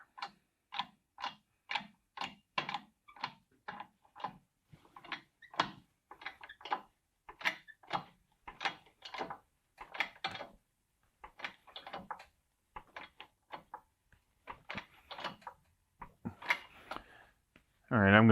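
A press bends a weld test piece made with 7024 rod, giving a long run of sharp mechanical clicks and ratcheting strokes. They are steady at first, then irregular, and a louder burst comes at the end.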